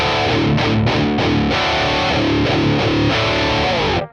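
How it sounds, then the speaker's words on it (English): A heavily distorted electric guitar chugs through tight, palm-muted metal riffs, loud and close, ringing out briefly before cutting off. "a good way to test the gain is to do a palm mute test"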